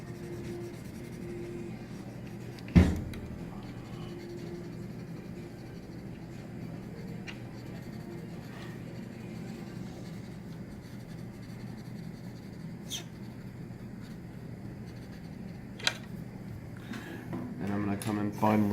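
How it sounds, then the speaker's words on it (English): A blending stump rubbing graphite across drawing paper, a soft continuous scratchy friction with faint strokes and an occasional sharp tap of a pencil set down nearby. "Use the blending stump, blend those transitions."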